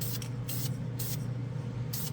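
A Krylon Foil spray paint can hisses in four short, loud bursts separated by brief pauses, with steady low room hum underneath throughout.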